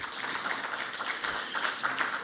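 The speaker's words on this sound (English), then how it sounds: "Please, a round of applause for them." An audience at the State of States 2025 event breaks into brief, even applause, a dense patter of many hands clapping.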